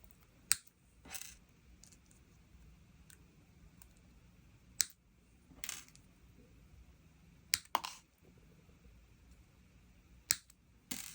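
Sharp wire cutters snip the excess wire ends on a wire-wrapped prong ring, giving about five crisp, isolated clicks spaced a few seconds apart over a quiet background.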